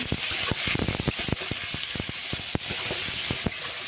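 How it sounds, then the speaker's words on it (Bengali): Chopped bottle gourd with turmeric and salt frying in a hot spice tempering, a steady close sizzle broken by quick sharp crackles and pops in an irregular patter. "এবার ফোড়নটার সাথে লাউটাকে একটু ভেজে নেব"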